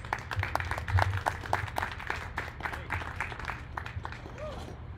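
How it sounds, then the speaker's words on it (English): A crowd at a science talk applauds a speaker with scattered, uneven claps, moderately loud and fairly close, gradually thinning toward the end. "So please give a round of applause."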